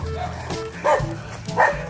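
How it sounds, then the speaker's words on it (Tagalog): A dog barks twice at close range, short sharp yaps about two-thirds of a second apart, over faint background noise. "Ang aso."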